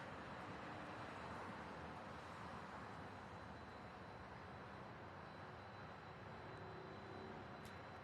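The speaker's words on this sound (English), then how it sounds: "Let's get that UPS flight. A brand new 767." UPS Boeing 767 at SDF in Louisville, Kentucky, heard as a faint, steady, distant broadband jet roar that holds evenly throughout with no voices.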